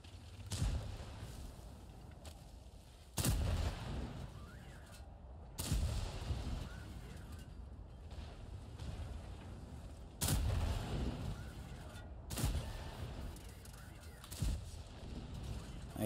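A tank's main gun fires again and again during online tank combat. Several heavy booms land at irregular intervals of a few seconds, over a constant hum of battle noise.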